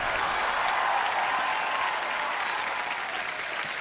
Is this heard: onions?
no